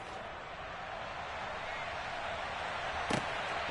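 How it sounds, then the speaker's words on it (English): Kickoff after a touchdown in the Madden 23 football video game: one sharp thump near the end rises briefly above a constant roar of stadium crowd noise. "Now after the touchdown, here's Elliott on to kick it away."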